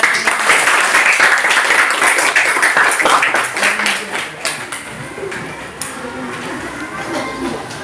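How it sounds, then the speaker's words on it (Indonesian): A class of students clapping for the first group before their presentation in a Hindu religion lesson, loud and dense at first, then thinning and fading toward the end. "tepuk tangan dulu buat"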